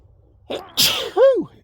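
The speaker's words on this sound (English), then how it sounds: "I think I'm going to sneeze." A single close sneeze: a sharp intake, a burst of air, then a short voiced trailing sound, in a quiet room.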